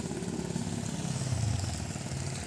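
A motorcycle engine hums on a muddy street in Vientiane, Laos. It sounds mid-distance and fairly faint, with a steady buzzing drone that swells slightly as the bike passes. There is no talk.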